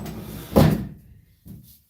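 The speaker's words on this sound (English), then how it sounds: "Close the old bathroom door" An old bathroom door swings shut with one solid thump, followed by a softer knock a moment later, close by and otherwise quiet.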